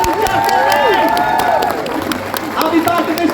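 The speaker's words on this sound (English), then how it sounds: "Please, everybody, huge big round of applause for Davison." A science fiction convention crowd applauds and cheers for a guest after a Q&A panel, steady clapping with whoops and raised voices mixed in, loud and sustained throughout.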